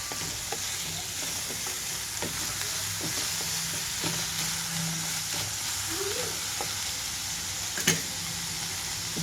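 Cauliflower fries in a covered pan with a steady, soft sizzle and occasional light taps and clinks, and one sharper knock near the end.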